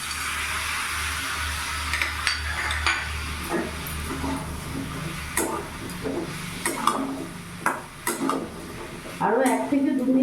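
Pumpkin cooking with kasuri methi is stirred in a pan, producing a soft background sizzle, scraping, and scattered spatula clacks against the metal that grow busier toward the end.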